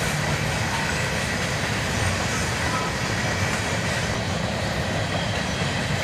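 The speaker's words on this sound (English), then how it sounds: "check out this old Rock Island covered hopper. One of my favorite freight cars going across the bridge." Freight train including an old Rock Island covered hopper crossing a bridge, producing a constant loud rumble with wheel clatter and faint squeal, no voices.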